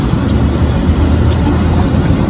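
Steady, loud cabin drone of an airplane in flight on a leg to Freeport in the Bahamas, a dense unbroken rumble and hiss that holds constant throughout with no voices.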